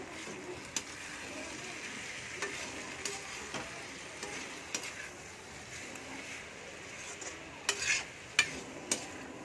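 Curry in a pot sizzles steadily on the stove as a spoon stirs it, with faint scraping and a few sharper metal clinks near the end; quiet, with no talk.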